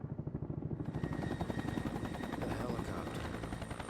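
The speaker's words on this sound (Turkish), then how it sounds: "Ha bir helikopter." A helicopter in the 2020 video game XIII Remake gives a loud, close, rhythmic rotor chop that thickens into a dense, steady thrum, blended with other game sounds.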